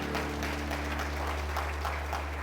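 A congregation in a church applauds during a sermon, a broad wash of clapping laid over a strong low electrical hum.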